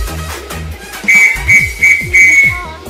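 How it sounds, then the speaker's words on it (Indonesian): A scouting whistle blown as a signal at camp gives several short, piercing high blasts in a rhythmic pattern, loud and close, over a repeating low background beat. "peluit sebagai isyarat"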